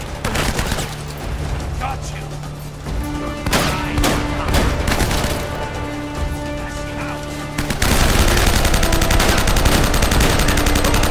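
Rapid automatic gunfire crackles through a firefight in Uncharted: Drake's Fortune Remastered, with loud bursts and booms, and someone talks over part of the shooting.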